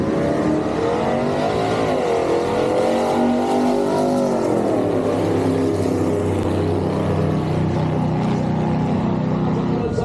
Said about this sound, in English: For 6, Jeff Oppenheim goes 947 to 74 miles an hour in the Pontiac gasser.